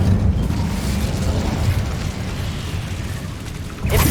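Incendio fire spell from Hogwarts Legacy, a loud roaring burst of flame with a deep rumbling whoosh that sustains, then a fresh sharp flare at the end.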